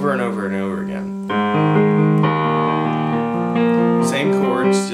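Piano chords for the chorus of a song, subdivided so each chord's keys are pressed in order on a steady four-count. Sustained harmonic tones shift through several chord changes, loud and close, with no voices.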